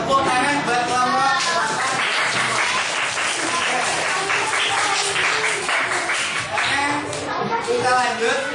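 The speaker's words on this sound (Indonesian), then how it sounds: "tepuk tangan buat kelompok" A classroom of students applauds a group during a maths lesson on fractions, with dense, loud clapping that lasts several seconds and voices mixed in.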